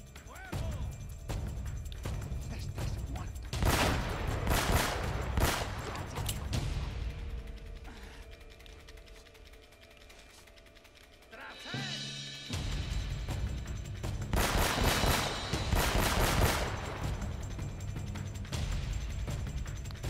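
Rapid bursts of gunfire from a third-person shooter, Uncharted: The Nathan Drake Collection, come in two loud clusters with mechanical clatter between them and a quieter lull in the middle.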